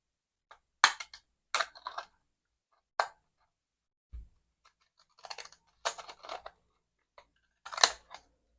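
Quiet, close scissor snips through paper, several short crisp cuts in irregular bursts separated by silences.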